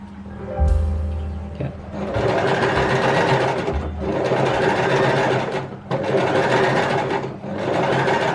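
Sewing machine stitching a doll's body, running in long steady bursts of rapid mechanical whirring with brief pauses between runs, close and loud, with a short clunk and hum at the start and no voices.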